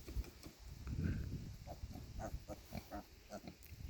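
Pigs on a farm grunting and snorting in a quick, irregular run of close, low oinks, with scuffling and rustling around them and no talk.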